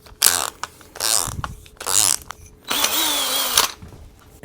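A power drill spins wood in a dowel maker, cutting a dowel in several bursts of whirring and grinding separated by short pauses, close and fairly loud, with no voices.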